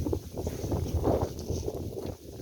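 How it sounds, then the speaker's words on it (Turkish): Gusty wind buffets the microphone outdoors while sowing kale seeds, a steady rumbling roar with low thumps and flutter throughout and no voices. "Hava biraz rüzgarlı."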